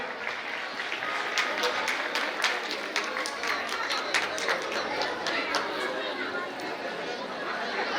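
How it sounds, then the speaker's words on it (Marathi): Audience applause at a women's day award ceremony, with dense clapping and crowd chatter filling the hall steadily throughout. "सर्वांनी टाळ्या वाजवायच्या जोरात."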